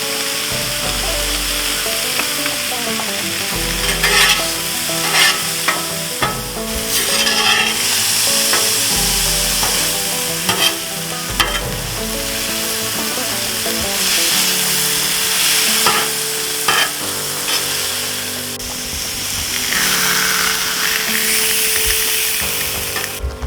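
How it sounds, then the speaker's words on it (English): Peppers, onions and hot dogs sizzling loudly on a hot cooking surface for fajita hot dogs, a constant close frying hiss broken by repeated scraping and stirring strokes. "Peppers and onions are cooking down."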